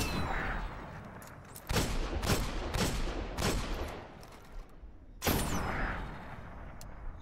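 Gunfire in the Destiny video game: a series of sharp, loud shots ringing out at irregular intervals, with a final blast and a falling whoosh after a short lull.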